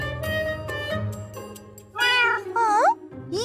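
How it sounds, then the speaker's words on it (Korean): A frightened cat meows several times in quick succession, loud and close, the cries rising and bending in pitch over a low household hum, with no one talking. "이때 또 다른 고양이 포착!"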